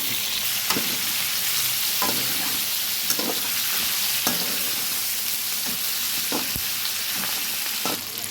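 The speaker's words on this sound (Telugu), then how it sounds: "ఇలా దీన్ని బాగా ఎర్రగా వేయించేద్దాం చికెన్ ఫ్రై కదా ఎర్ర వేయించుదాం" Chicken frying in a pan: a continuous, dense sizzle of hot oil at close range, broken by occasional soft knocks and scrapes of a stirring utensil, with no voices.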